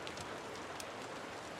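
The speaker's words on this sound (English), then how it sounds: "It's a video I found that has the rain." Soft steady rainfall from a background recording, a continuous faint hiss of drops with a few slightly sharper patters.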